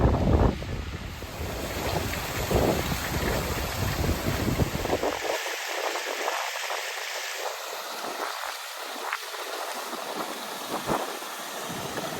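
Rushing water from a fast-flowing moorland stream roars steadily, blended with heavy wind buffeting the microphone, loud and continuous with no voices.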